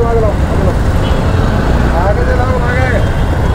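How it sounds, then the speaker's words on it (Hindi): Steady road traffic noise on a busy city street, a continuous rumble of engines with a few short horn toots in the middle and near the end. "ये देखिए ट्रैफिक"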